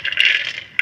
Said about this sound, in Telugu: 1 స్పూన్ ఆయిల్ వేసుకొని అందులో పల్లీలు